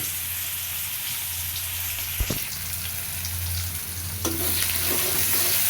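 Chopped onion hits hot oil already holding cumin and dried chilli after fish has been fried for a tilapia curry, giving a loud, continuous sizzle and crackle with a couple of sharp clanks and stirring scrapes, with no voices.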